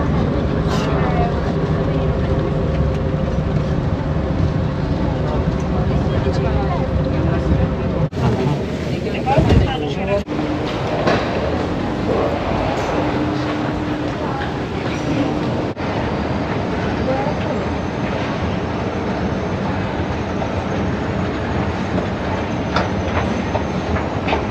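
A train rumbles steadily along the rails with rattling carriage noise and occasional clacks, loud and close, as heard from inside.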